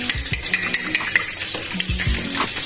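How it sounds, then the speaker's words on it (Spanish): A fork or whisk beating milk and egg mixture for torrijas in a bowl, with quick rhythmic clinks and taps against the sides, a little sizzle of frying in the background. "Lo batimos bien."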